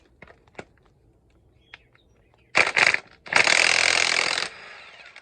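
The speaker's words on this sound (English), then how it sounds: "This 24 volt impact from Cobalt. Let's see what it can do." A Kobalt 24-volt brushless impact wrench rattles loose a crankshaft bolt on a 2013 Kia Rio, two loud hammering bursts, a short one then a longer sustained run, after faint workshop clicks.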